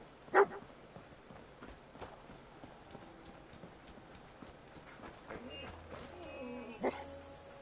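Dogmeat, the dog companion in the video game Fallout 4, gives a sharp bark at the start and another near the end over low game ambience.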